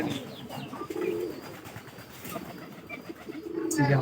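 A pigeon coos in low, soft bursts near the start and again at the end as it is released, with light background noise and faint chirps between.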